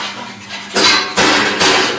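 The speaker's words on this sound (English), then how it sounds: "Where's that rubber hammer go?" Three loud, evenly spaced blows from a rubber hammer ring out in a tiny workshop, each a broad, dull thud that fades slowly.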